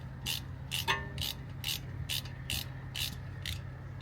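Evenly spaced ratchet strokes tightening the brake caliper bolts on a Ford Transit Connect during front pad replacement, about nine sharp clicking bursts in steady rhythm, close and clear with no talking.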